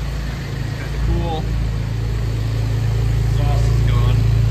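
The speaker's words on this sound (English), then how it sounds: "Exhaust is gone. Why it sounds so crazy." A 2022 Buick Enclave 3.6-liter V6 runs with its exhaust removed, giving a loud, steady low rumble and idle drone throughout, with brief voices and faint tones over it.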